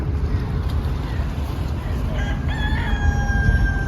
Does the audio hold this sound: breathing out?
no